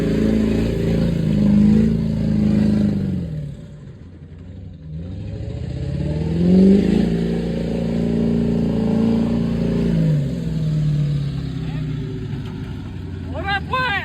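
Straight-piped Duramax diesel truck revving, a loud, deep, rumbling exhaust that rises and falls through several long throttle swells with dips between, while voices talk over it.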